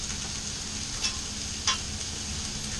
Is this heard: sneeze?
no